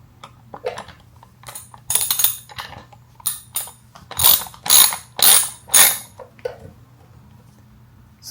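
A hand ratchet tightens a fender mount bolt on a Yamaha Tenere 700 motorcycle: close, crisp clicking strokes, first scattered, then about five regular strong pulls in a row, with no talking.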